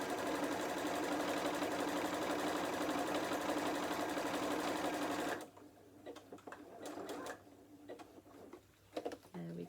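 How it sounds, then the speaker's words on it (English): Domestic sewing machine stitching steadily across two joined fabric hexagon pieces for a book cover, a loud continuous motor whir that stops abruptly halfway, followed by quieter handling clicks and rustles. "And then you're sewing across both pieces then."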